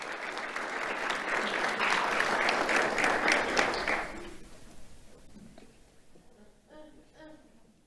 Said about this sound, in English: Let's have a round of applause for Samuel and Christopher.